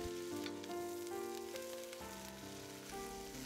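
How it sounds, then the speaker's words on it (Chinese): Water spinach stir-fried with garlic and shrimp paste in hot oil crackles in a steady, close sizzle with light scraping, under continuous background music. "立刻加入空心菜翻炒"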